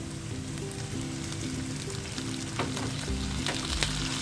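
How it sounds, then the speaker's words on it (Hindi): Chopped tomatoes sizzling with sautéed onions in a pan as Bhindi Masala cooks. A steady, moderate frying crackle runs throughout with occasional sharper pops and stirring sounds, and no one speaks. "अब हम इसमें डालते हैं टमाटर। इसमें डालें 2 टमाटोज चॉप्ड।"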